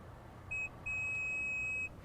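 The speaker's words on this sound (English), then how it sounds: "You're gonna hear a beep." Two electronic beeps from a 2019 Mazda CX-5 Signature Turbo AWD while its power liftgate height is being set: a short tone, a brief gap, then a longer steady tone lasting about a second, clear over a quiet background.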